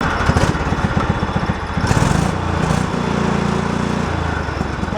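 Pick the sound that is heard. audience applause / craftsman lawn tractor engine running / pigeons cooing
craftsman lawn tractor engine running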